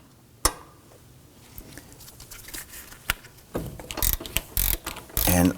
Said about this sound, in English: Now we're going to use our 17mm shallow socket and extension.